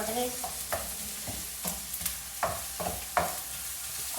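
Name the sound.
sautéing onions in a pan for chicken curry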